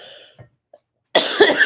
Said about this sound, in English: Sorry, me and my coughing.